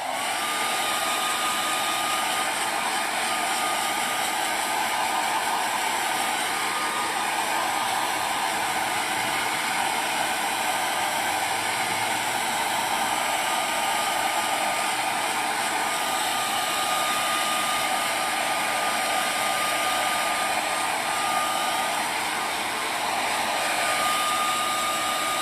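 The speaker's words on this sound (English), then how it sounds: "I'm going to use the hairdryer again just for a second." A hair dryer blows steadily and loudly for the whole stretch, a constant whooshing motor hum with no pauses.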